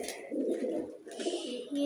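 Pigeon cooing, soft and close, in short bursts beside newly hatched pigeon chicks.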